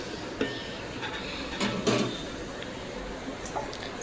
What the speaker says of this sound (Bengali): গামলাটা দিয়ে ঢাকি